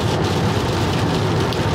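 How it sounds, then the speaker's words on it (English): Rain falls steadily outdoors, a loud, dense, unbroken hiss of drops hitting surfaces that stays constant throughout, with no voices. "Man, I hate that it's raining."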